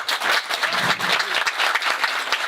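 A crowd applauds its party president at a Parti de la France Bretagne rally, a dense, steady burst of many hands clapping close by with no talk over it.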